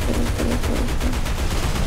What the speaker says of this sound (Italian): Sparo, sparo, sparo, sparo, sparo.